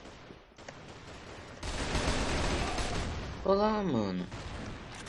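Rapid gunfire from the online shooter game Crossfire crackles through a dense burst of shots, with someone speaking briefly over the din.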